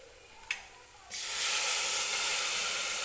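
Water hits hot masala in a pan, and a broad sizzling hiss bursts up loud and steady after a brief clink. It is for a fresh green chickpea curry, and the hiss holds on close with no voices over it.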